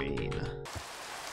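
Steady rain hiss switches on abruptly partway through a video game, taking over from layered music tones and filling the rest of the moment with a dense, even patter.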